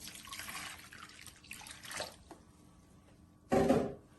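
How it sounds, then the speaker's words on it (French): Water is poured onto grated pineapple in a bowl for homemade juice, with short splashing bursts and a louder pour near the end, fairly close and with no talk. "J'ai mon râpé d'ananas ici, auquel je vais ajouter juste un peu d'eau."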